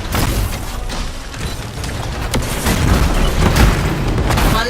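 A turret being destroyed in the Anthem game: a loud, dense, sustained booming blast with crackling debris and rumble throughout, a few sharper pops rising above it.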